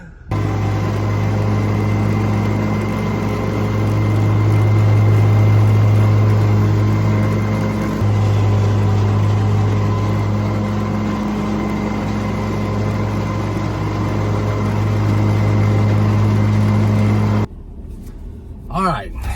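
A vehicle engine rumbles steadily while backing up a trailer, a loud, even hum with a faint tonal drone that cuts off abruptly near the end.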